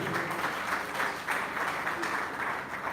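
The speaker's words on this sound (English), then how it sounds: "Please can you clap for him." Clapping from the audience at a Nigerian paramilitary and security crime-prevention summit, a fairly soft but steady patter of many hands with a slightly pulsing rhythm throughout.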